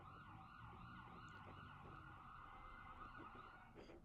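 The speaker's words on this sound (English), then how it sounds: "A rare background siren." An emergency vehicle siren wails steadily in a rising and falling pattern, fairly distant, over a low rumble of road traffic.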